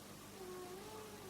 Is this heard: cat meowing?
yes